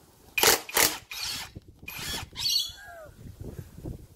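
An impact wrench works the brake caliper bolts on a 2011 Suzuki DL650 V-Strom, firing several short, loud rattling bursts with pauses between them, then a fainter ratcheting and a few softer mechanical clicks.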